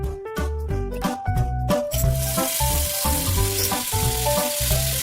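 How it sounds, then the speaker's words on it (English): Fennel seeds, coriander seeds and dried chili hit hot oil in a pan, and a steady, fairly loud sizzle and crackle rises from about two seconds in and carries under prominent background music. "Fry the fennel seeds, coriander seeds, and dried chili in a pan of oil."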